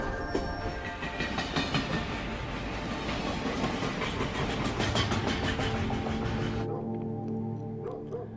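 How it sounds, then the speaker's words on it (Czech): A long train of railway cars rolls loud and steady through narrow gorges, with continuous clattering, rumbling and metallic squeal running throughout until the sound drops off abruptly near the end. "Jako dlouhý ocelový had se vlaková souprava prodírala úzkými soutěskami i nad hlubokými stržemi."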